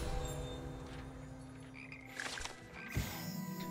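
Frogs croak in Hogwarts Legacy, a dense chorus of croaks and buzzing calls layered over game ambience, with a louder burst of calls near the end.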